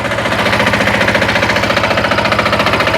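WEIMA DELUXE walk-behind tractor with gearbox, its engine running loud and close with a fast, steady pulsing chug while the machine pulls away in first gear, no voices.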